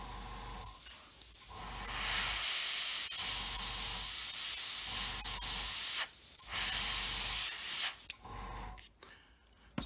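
An airbrush sprays paint onto an Airfix Hawker Hurricane Mk.1 Tropical scale model. Soft, close hissing comes in several bursts separated by short pauses, then stops near the end, leaving faint quiet.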